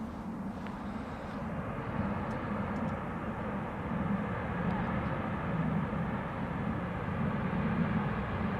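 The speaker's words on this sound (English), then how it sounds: "Sounds like reverse thrust being used." An airliner at Manchester Airport roars with a distant, sustained rumble of reverse thrust that swells slightly over the span, steady and low, with no talk over it.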